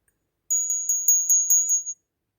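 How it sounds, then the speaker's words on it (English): A small thrifted ritual bell gives a bright, high, pure ring, struck in a quick run of about seven light taps that blend into one sustained shimmering tone, soft and close before fading out. "This is a very gentle bell."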